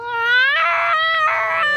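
A person imitates a cat's meow with a drawn-out, rising, wavering vocal whine that breaks into two strained bursts, loud and close.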